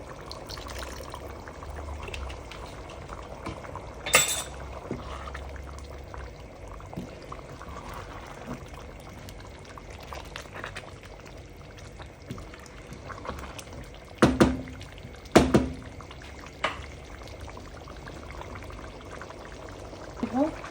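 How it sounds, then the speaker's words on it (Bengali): Kewra water pours into a pot of biryani as a short liquid stream within a quiet kitchen scene. The pour is faint under low background hiss, and a few brief clinks and splashes come and go. "হবে কেওড়া জল।"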